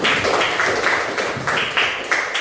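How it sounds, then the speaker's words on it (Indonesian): Classroom applause for all the student groups during an Indonesian teacher-training lesson, a steady wash of many hands clapping at moderate level, continuous without speech. "Tepuk tangan untuk semua kelompok"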